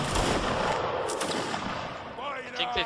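Rifle volley on the fire command in a 51st versus 42nd KRR game, a dense burst of overlapping gunfire with some distant shots, loud and continuous, with voices talking under it near the end.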